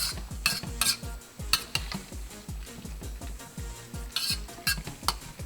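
Pork lo mein stir fry with vegetables being stirred in a pan off the heat: repeated close metallic clinks and scrapes of a utensil against the pan in an uneven rhythm over a soft sizzle.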